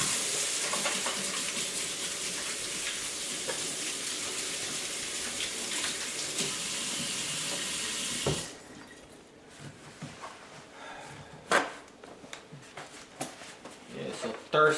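A hand is washed under a running tap, a steady, loud rush of water that stops abruptly partway through. A few clunks and handling noises follow, and someone talks over the sound.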